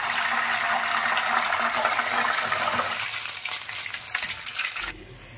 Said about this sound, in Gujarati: નૂડલ્સ તળવા છે